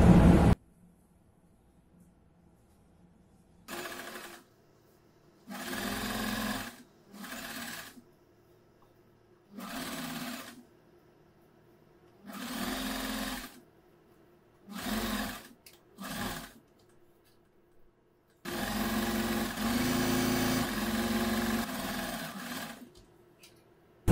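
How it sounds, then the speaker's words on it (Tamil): A sewing machine stitches the crotch seam of a churidar pant in a series of short bursts of motor whir separated by silent pauses, with a longer continuous run near the end. "இதே மாதிரியே தான் இப்ப அடுத்த சைடுமே நம்ம வந்து ஸ்டிச் பண்ண போறோம்."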